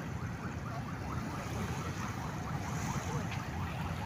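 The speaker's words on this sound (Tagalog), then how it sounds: "dahil banayad lang yung alo" Gentle surf rolls steadily onto a dolomite sand beach under an overcast sky, a soft continuous wash with light wind noise and no distinct breaking crashes.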